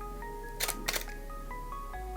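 A single-lens reflex camera's shutter firing twice in quick succession, two short crisp mechanical clicks close to the microphone over a quiet electronic hum, with no voices.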